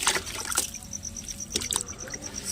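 Cauliflower being rinsed a second time in a bowl of water gives brief, faint sloshes, trickles and small splashes in a couple of short bursts.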